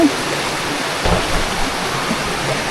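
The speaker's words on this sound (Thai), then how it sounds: "เสียงน้ำไหล" Water from a nearby stream rushes steadily in a continuous broadband hiss, with a few faint bumps underneath.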